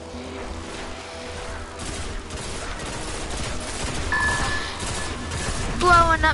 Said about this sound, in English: Blowing up the mines all day.